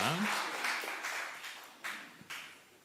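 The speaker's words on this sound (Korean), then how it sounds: "우리의 찬양을 받으실 하나님께 박수로 영광 올려드리겠습니다" A church congregation claps during a Sunday service, a steady wash of applause that fades and then surges again in a few louder bursts, with a short voice near the start.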